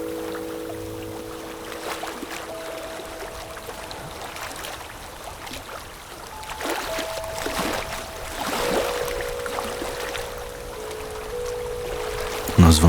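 Flowing water for a guided meditation runs as a soft, continuous pour and trickle, with gentle sustained tones floating over it and occasional louder splashes, steady and calm throughout.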